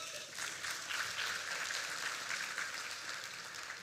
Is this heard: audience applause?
yes